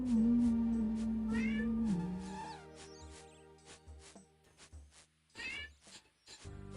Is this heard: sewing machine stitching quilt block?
no